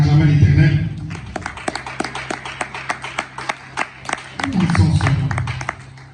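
A church congregation claps in a steady rhythm to acclaim the Lord during a prayer seminar, with sharp, evenly spaced claps in the middle stretch and voices and crowd noise at the start and end.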